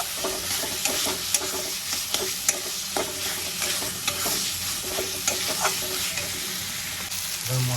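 Chopped tomatoes being stirred and sautéed with spices in a pan for a traditional Bengali vegetarian banana-flower dish, with steady frying sizzle and repeated scraping stirs, close and continuous.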